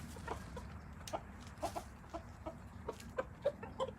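Rooster clucking in short, scattered bursts while being wrangled outdoors, fairly faint against a low steady background rumble.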